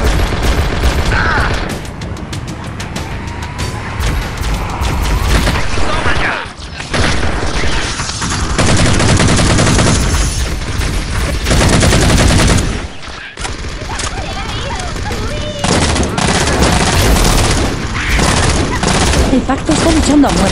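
A firefight in Halo CE with a Halo 4 mod, heavy overlapping bursts of automatic gunfire and booming shots roar throughout, loud and close, while voices shout over the battle.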